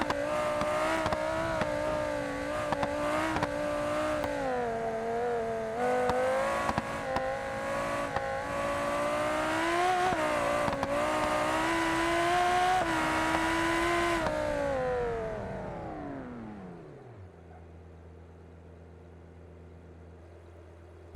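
A car in BeamNG v0.25 revs hard through laps, its engine note rising and falling continuously before winding down to a low idle near the end.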